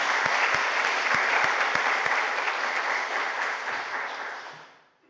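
Applause from a large church congregation, loud and dense, holding steady before gradually fading away over about five seconds.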